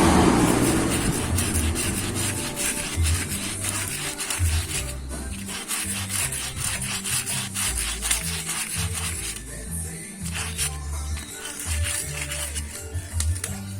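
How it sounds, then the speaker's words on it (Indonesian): Coarse sandpaper scrubs steadily at a front disc brake pad from a Honda Vario scooter, a close, continuous rasping in rhythmic back-and-forth strokes with no talk. "Bisa gunakan amplas yang agak kasar supaya cepat bersih."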